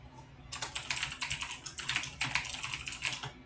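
Fingers tap rapidly on a computer keyboard during an online community call, a close, steady patter of keystrokes with brief pauses, no voices over it.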